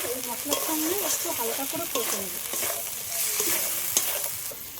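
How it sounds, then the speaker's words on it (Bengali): Prawns being fried in spice paste in a pan for a prawn malai curry, a close steady sizzle broken by repeated scraping and clacking of a spatula, alone without speech. "এই মশলার সঙ্গে একটু হালকা করে কষে নেব"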